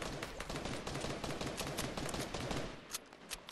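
Rapid bursts of gunfire in the video game Fortnite rattle almost continuously, loud and dense, with a few sharper isolated shots near the end and no talk over them.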